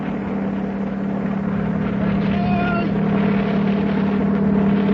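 A helicopter sound effect from an old-time radio show runs as a steady, continuous engine drone with a low hum, holding level and loud throughout with no voices over it.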